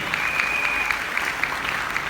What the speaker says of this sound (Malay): Tepukan untuk Ibu Yeni dan Pak Lucien.